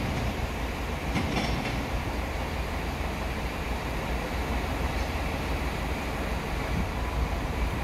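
A Class 345 electric train pulls away from a station platform on the service to London Paddington, a steady broad rumble and hiss of wheels and motors holding at constant level throughout with no voices.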